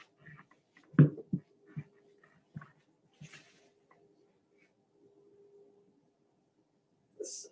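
A dog moves around indoors with soft footsteps and scuffles, letting out a few short whimpers and small vocal squeaks in otherwise quiet surroundings.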